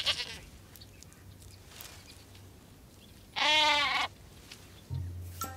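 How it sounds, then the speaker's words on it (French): A single loud goat bleat with a wavering, quivering tone stands out against quiet outdoor background in the Sahara, followed by a brief low hum. "Les chèvres vont sur l'arbre pour manger plus facilement les fruits."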